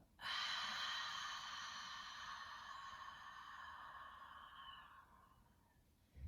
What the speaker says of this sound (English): when you do that exhale that all of that air is exiting your body